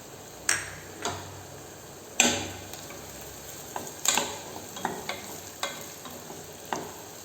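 Onions frying for millet upma hiss softly in a pan as a spoon stirs them, with a series of distinct taps and scrapes against the pan over a low, steady sizzle.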